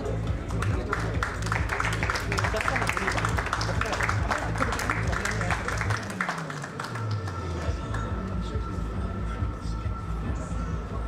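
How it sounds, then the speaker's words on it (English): Audience applause at a business awards event, a dense wash of clapping across the whole stretch, steady and fairly loud, with some background voices and a low hum underneath. "Please give a big round of applause"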